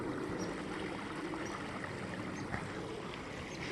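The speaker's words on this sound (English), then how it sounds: "I'm getting back to the creek here." A small creek flows in freezing winter woods at 5 degrees, giving a steady, continuous wash of running water close by with no talk over it.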